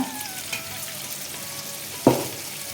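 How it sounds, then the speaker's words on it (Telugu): A snack deep frying in hot oil over a high flame, a close, steady bubbling sizzle broken by one sharp spatter-like burst near the end, no talking. "బాగా హై ఫ్లేమ్లోనే డీప్ ఫ్రై చేసుకోవాలి"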